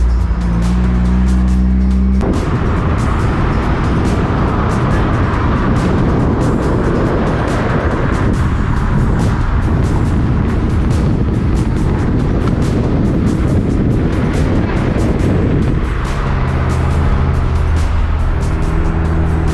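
A car drives the winding Tail of the Dragon road, its engine and road noise a loud, steady roar throughout with small shifts in pitch and no pauses.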